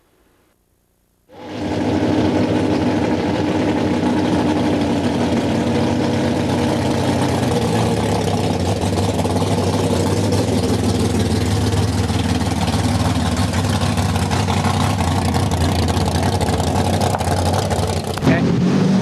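A 1968 Hemi drag racing car engine raced at a Hot Rod Magazine meet in Riverside, California starts abruptly and settles into a loud, steady, rumbling run that lasts over fifteen seconds, and no one speaks over it.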